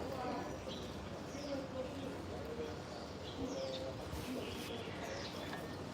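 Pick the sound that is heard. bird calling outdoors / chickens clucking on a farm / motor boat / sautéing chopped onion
bird calling outdoors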